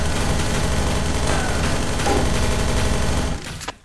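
Rapid gunfire from an MLG-style gun in a video game, a dense continuous fusillade of loud shots that fills nearly the whole stretch before cutting off abruptly near the end.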